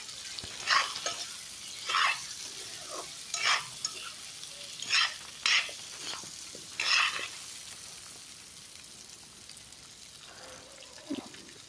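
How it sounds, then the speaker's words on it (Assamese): Vegetables stirred in a frying pan with coriander and cumin, giving repeated short scraping and sizzling strokes at a slow, uneven rhythm, close and moderately loud, with quiet gaps between the strokes. "তাৰপিছত ভালকৈ চব্জিখিনি লাৰি দিম।"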